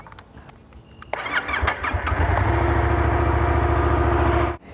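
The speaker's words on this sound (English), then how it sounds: "make sure that you turn on the bike and you test the grips and make sure that they work fine" A Yamaha MT-07 motorcycle engine cranks and catches, then settles into a steady, loud idle close by after a few quiet clicks, before cutting off abruptly at the end.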